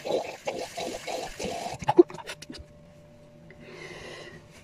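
Water running and splashing to rinse alum off a freshly shaved face, close-up and uneven at first, then settling into a quieter, steady trickle.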